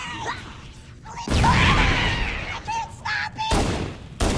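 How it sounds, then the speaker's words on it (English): A frag grenade goes off among grunts and jackals at the bottom of a lift in Halo Anniversary, a loud booming burst followed by crackling debris, with a second blast near the end and a voice in the background. "Throw a frag grenade. Watch them fly."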